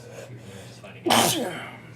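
One sharp, loud sneeze bursts out midway through casual group talk during a tabletop role-playing session, close to the mic and fading quickly.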